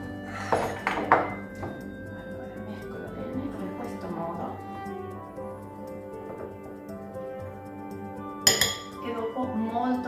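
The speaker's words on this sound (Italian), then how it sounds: "Allora, mescolo bene in questo modo." Banana cake batter with baking soda and powdered ginger stirred in a bowl, a utensil clinking and scraping against the sides in close, irregular taps, with a louder knock near the end.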